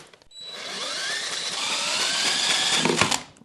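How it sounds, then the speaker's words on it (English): A cordless drill turns a socket to crank over the small engine of a backyard ski tow, giving a steady, close whirring buzz for about three seconds that stops abruptly at the end. "I'm just going to use the socket on the drill here"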